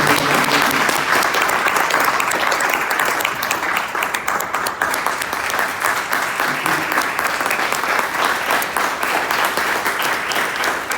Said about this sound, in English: staff, would you just applaud the board as well for all the stuff